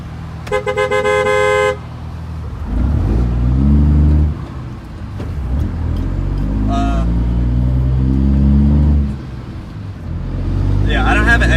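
A 700hp Cummins diesel truck roars under throttle, a loud, deep engine note rising and falling over several seconds, with a brief horn-like toot near the start and voices talking over it.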